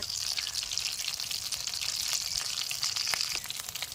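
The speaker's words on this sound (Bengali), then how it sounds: "এক পাশ উল্টে দিয়ে আমি একটু লাল লাল করে ভেজে নেবেন আপনারাও" Soybean fritters sizzle in hot oil, a close, steady hiss with light crackles and pops throughout, no voices.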